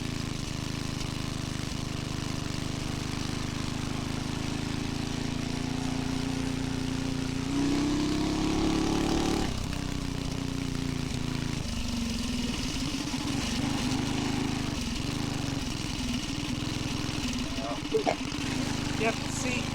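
A homemade two-wheel-drive minibike's small engine runs and revs but fails to climb high, a droning motor note rising and falling as it rides, with a person talking over it.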